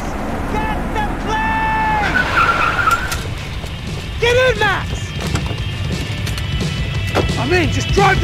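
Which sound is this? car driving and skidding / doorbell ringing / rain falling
car driving and skidding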